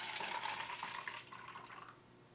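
A carbonated drink being poured, giving a steady fizzing, liquid rush that runs about two seconds before thinning out, close and fairly quiet with no talking.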